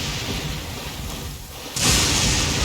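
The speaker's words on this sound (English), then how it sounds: "The lightning seems to be after us." Thunder rumbles through a steady rainstorm in the video game Genshin Impact, with a louder crash of thunder and heavier rain surging in near the end.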